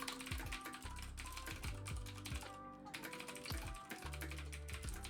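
Keys clack in a quick, uneven run of computer-keyboard typing, steady throughout, with tonal music or background sound humming underneath.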